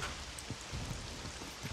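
Steady rain falls throughout in the survival video game SCUM, a soft, even wash of drizzle with faint scattered patters of drops and no voices.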